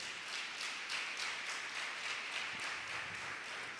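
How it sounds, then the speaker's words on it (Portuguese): Congregation applause during a church service, a faint, steady wash of clapping from a distant crowd with no voices over it. "Pode aplaudir."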